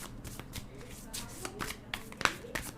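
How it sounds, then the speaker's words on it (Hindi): Tarot cards are shuffled by hand in quick, soft riffling bursts close by, with someone speaking over them. "बट मैं और शफल करूँगी"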